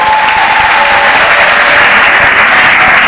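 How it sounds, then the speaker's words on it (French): Women in a church audience applaud, a dense and loud wash of clapping that holds steady the whole way, with a faint tone and murmur mixed in. "il y a les sœurs qui applaudissent malgré elles"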